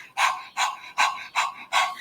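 Rapid breath-of-fire yoga breathing, five sharp rhythmic nasal pants in a steady even pulse, close and fairly loud with no talking.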